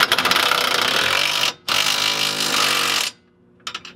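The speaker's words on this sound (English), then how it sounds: "I like to just use my impact driver for a little bit" A cordless impact driver hammers a bolt tight on an X-brace being fitted under a BMW E30, two loud sustained bursts of rapid rattling impacts separated by a brief pause, then a short trailing tap, close up with no talking.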